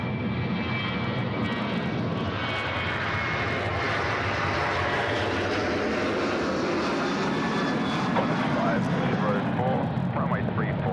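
Qantas flight 91 airliner taking off from runway 34 right at Sydney Airport, a loud sustained jet roar that builds steadily over several seconds, with voices talking underneath.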